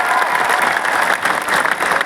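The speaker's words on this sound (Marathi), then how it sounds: "सगळ्यांसाठी टाळ्या वाजवा." Applause from a crowd in an assembly hall, dense and steady throughout, loud and close with no break.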